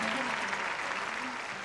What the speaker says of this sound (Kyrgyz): сиздер дүркүрөң кол чабуулар менен колдосоңуздар